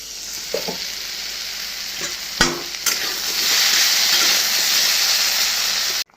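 Very hot chili sautés with spices in a pan, giving a close, steady sizzle that grows fuller, with a few sharp clicks and scrapes of a utensil early on.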